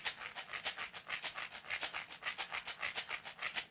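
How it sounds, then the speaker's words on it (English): A bottle shaken as a shaker gives a steady rhythmic shaking, quick swishy pulses of granular hiss repeating evenly, close up and at moderate volume. "But it makes a nice shaker."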